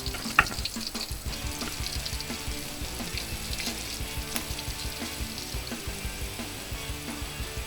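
Pork pieces frying in oil at about 350 degrees give a steady, dense sizzle with crackles and pops, close and continuous, with no voices.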